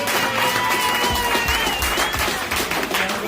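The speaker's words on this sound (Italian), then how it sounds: "Un applauso per la squadra Christian." Crowd applause for a competing team at a hip hop concert, a short continuous wash of clapping under steady music tones.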